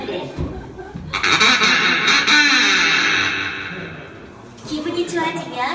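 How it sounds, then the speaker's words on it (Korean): A live sound-effects performance in a fantasy audio play produces loud Donald Duck-style honking quacks in a sustained nasal burst, then quieter, under and between a performer's voice. "거기 내리면 도널드 덕이 꽥꽥거리면서 악수를 하자고 그래."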